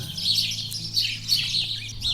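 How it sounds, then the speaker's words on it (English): Several birds sing loudly at the height of mating season near a homestead garden, a steady overlapping stream of bright chirps and tweets close by, with a faint low hum underneath and no talking. "The birds are so alive today and so loud, but I like it."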